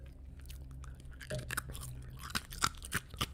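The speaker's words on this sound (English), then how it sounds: "Crunchy ice." Close, crisp crunching of ice at irregular intervals, several sharp cracks over a low background hum, with no voices.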